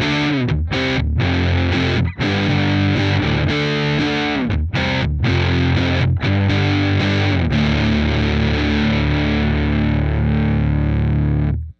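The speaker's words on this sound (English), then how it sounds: "The second example was recorded with the ZI at its lowest impedance setting, but the output gain was turned up quite a bit." Electric guitar recorded direct through a ZI box at its lowest impedance setting with the output gain high, heavily distorted chords chugging loud and continuous with short stops, then a final sustained chord ringing out.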